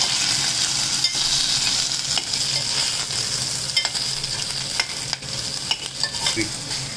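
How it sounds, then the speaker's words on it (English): Onions fry in a pan for sambar with a steady, close, bright sizzle, broken by scattered clicks and scrapes of stirring throughout. "So I fried these onions for about 2 minutes"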